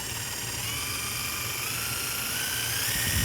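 An impact driver runs continuously on its variable speed trigger, a steady high-pitched motor whine with a tone that slowly rises as the speed is adjusted, loud and close with no talk.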